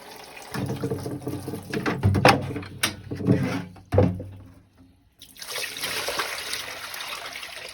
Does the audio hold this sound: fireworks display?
no